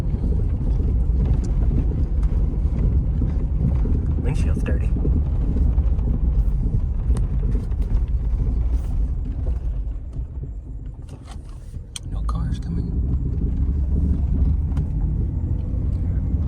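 Jeep 4.0 inline-six engine running while driving, a steady low rumble with road and wind noise throughout, briefly easing off before picking back up, with someone talking over it.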